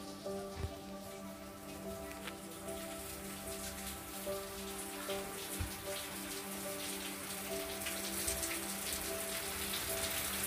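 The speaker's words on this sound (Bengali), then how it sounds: "তোমরা কি বৃষ্টি দেখতে পাচ্ছ বন্ধুরা?" Heavy rain falls steadily outside a window, a dense continuous hiss of drops on surfaces, fairly close and uniform throughout with no voices.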